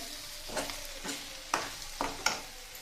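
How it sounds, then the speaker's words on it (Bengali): Peanuts are stirred in a frying pan with a soft sizzle, and a spatula scrapes and clatters against the pan in several distinct strokes. The sound is close and fairly quiet. "বাদামটাকে নিয়ে ভালো করে একটু নাড়িয়ে চাড়িয়ে নিলাম"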